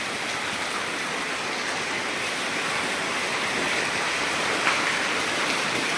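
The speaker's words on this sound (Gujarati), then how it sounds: "અને આ વરસાદ આવે છે" Heavy rain pours down in an even, dense hiss that stays loud and unbroken throughout, with no voices over it.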